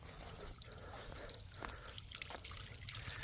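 Aquarium water drains out through a siphon vacuum, a steady close trickle and splash with small drips running through the whole stretch, and no voices.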